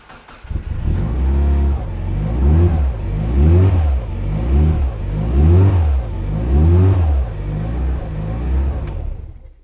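A Mazda MX5 engine fitted in a hybrid race car with a Sadev six-speed sequential gearbox cranks, catches and then revs repeatedly in loud, close, rising-and-falling bursts before cutting off at the end.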